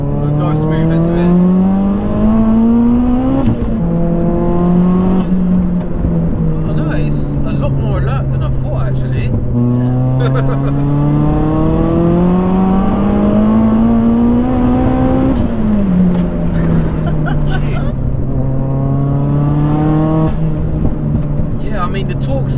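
A 504 bhp Vauxhall Corsa VXR drives on the road, its engine note rising and falling through steady acceleration and gear changes, loud and close throughout, with people talking over it inside the cabin.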